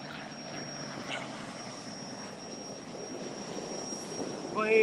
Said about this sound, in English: Planes coming in.